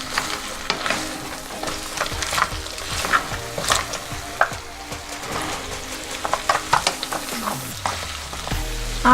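Tamarind crab and scallions are stir-fried in a hot pan, with repeated scraping, clattering stirring strokes over a constant sizzle, close and fairly loud, and a low rumble at the very end.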